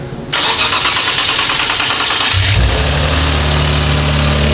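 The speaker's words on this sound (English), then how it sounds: "give her a start. Give her a rip." A modified 2023 Nissan Z with bolt-on upgrades cranks over with a loud starter whir for about two seconds, then fires and settles into a deep, steady idle close by.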